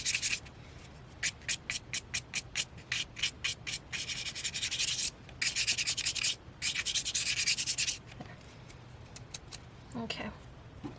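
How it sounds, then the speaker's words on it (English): A small brush scrubs quickly back and forth across paper to loosen it during eco printing, making close, crisp, rhythmic rasping strokes in fast bursts with brief pauses. "if you've got a little brush, like, you just do like this and get it loose that way."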